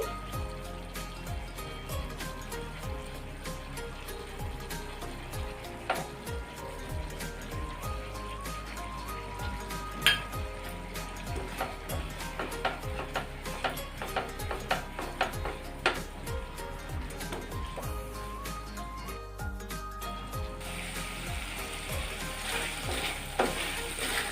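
Chicken sauce sizzles and fries steadily in a pan as white sesame seeds are added, with continuous crackling, scattered pops and occasional stirring scrapes, close and even throughout without talking.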